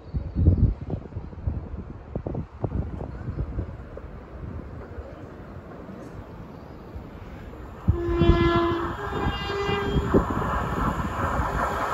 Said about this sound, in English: The 1048 Chiltern Railway service from London Marylebone to Banbury.